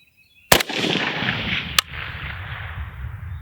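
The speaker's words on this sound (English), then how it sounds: "One more shot just to see if this was not the fluke." A sharp, loud rifle shot cracks out at close range and leaves a long rumbling echo, followed by a second fainter crack as the reverberation dies away.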